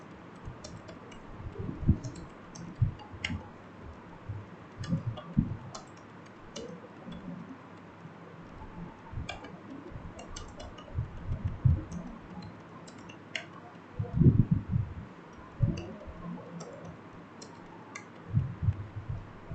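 Typing on a computer keyboard while writing in Notepad, with irregular bursts of soft close key clicks and taps, pausing now and then, fairly quiet and without voices.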